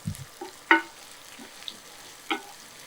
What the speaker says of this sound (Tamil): இதை வந்து ஒரு 3லேருந்து 4 நிமிஷம் அப்படியே லோ ஃப்ளேமில் நம்ம அப்படியே வதக்கி எடுத்துக்கலாம்.